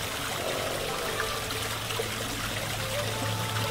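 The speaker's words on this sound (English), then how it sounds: "Here's the koi pond and the waterfall." Waterfall spilling into a 1,200-gallon koi pond built by a stone mason, a steady close trickling and splashing flow that runs without a break.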